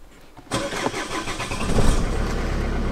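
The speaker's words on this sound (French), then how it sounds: "Et la voiture met en route." Renault Scénic 2 with a 1.9 dCi diesel engine and an injection fault starts up: after a quiet moment a sudden crank-and-catch, then rough clattering diesel running that builds and settles into a steady idle, close and loud.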